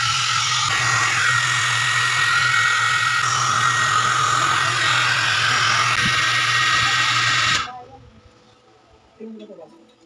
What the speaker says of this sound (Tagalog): Gamitan na lang natin siya ng blower para matunaw na kagad yung yung mga yelo niya